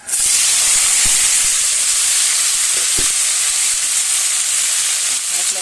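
Fish and a few small tomatoes sizzle in a pan with no spices added, a steady, loud, close hiss of frying that runs unbroken, with a couple of faint utensil taps.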